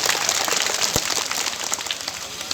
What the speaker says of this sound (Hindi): बात अच्छी लगी है तो जोरदार ताली बजा के सम्मान करना चाहिए